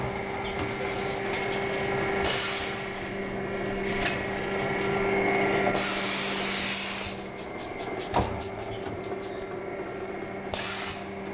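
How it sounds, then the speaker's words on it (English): Bagel Systems Digifav B2 machine runs with its fan and bursting on, a continuous mechanical hum and hiss with bursts of rapid clattering, close and steady, no talk. "I turned the fan on to help deliver the sheets, and I turned the bursting on"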